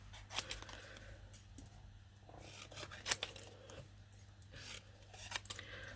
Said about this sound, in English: I'm just going to fussy cut this out.